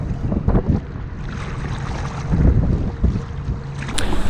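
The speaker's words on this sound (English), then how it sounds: "Weather's rolling in, wind's picking up." Wind picks up over Watts Bar Lake on the Tennessee River during a kayaking trip, a loud, continuous rumbling buffet across the microphone with surging gusts and faint water movement.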